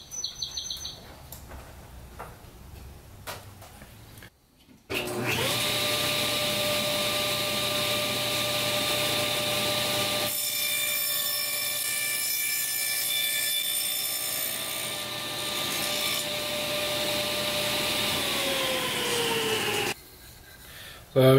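A table saw with a tenoning jig cuts a dado into the end of a wood piece: the motor spins up with a loud whine that holds steady for about fifteen seconds, then winds down, with quieter shop sounds before it.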